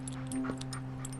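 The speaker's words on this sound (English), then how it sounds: "You're as good a guard dog as you are an assistant." A dog whimpering softly in a brief, faint whine with a small yip-like lift, heard over a steady low background hum.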